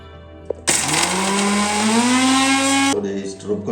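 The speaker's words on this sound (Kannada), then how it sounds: "ಇದನ್ನೆಲ್ಲ ಮಿಕ್ಸಿಲಿ ನುಣ್ಣಗೆ ರುಬ್ಕೊಳ್ಳೋಣ ಇವಾಗ." A kitchen mixer grinder whirs loudly for about two seconds as it grinds spices in its jar for masala buttermilk, with a steady motor hum that rises in pitch as it runs, then stops abruptly.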